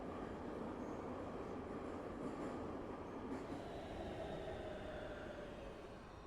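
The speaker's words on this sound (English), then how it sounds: "we're going to take the subway all the way over to here, to the Garment District Harbor Station" Subway train ride inside the video game Big Ambitions, a steady loud rumble of rolling rail noise with faint wheel squeal, continuous throughout with no talking.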